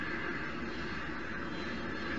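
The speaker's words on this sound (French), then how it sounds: "l'avion passe" Steady airplane engine drone for an aircraft passing in an animated model scene, a constant broadband roar without clear rise or fall, heard alone.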